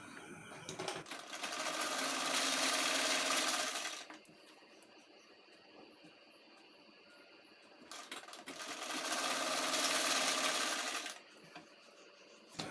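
A sewing machine stitches a saree fall in two long, steady whirring runs of a few seconds each, close and clear, separated by a quiet pause.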